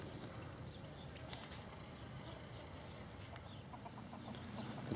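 Chickens cluck softly and intermittently nearby amid quiet rustling, a calm outdoor farmyard scene.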